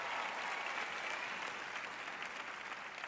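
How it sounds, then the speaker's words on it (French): An audience at a French-language Christian sermon claps together in a steady, fairly faint burst of applause that lasts a few seconds with no speech over it. "Je vous applaudis."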